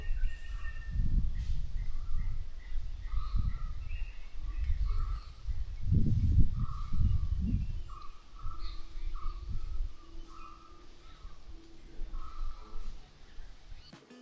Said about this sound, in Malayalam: ഇനി നമുക്ക് കുറച്ച് പക്ഷികളുടെയൊക്കെ സൗണ്ട് കേൾക്കാമേ